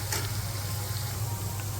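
Finely chopped onion and garlic sizzle in a frying pan, a brief, even crackling hiss that is close and continuous.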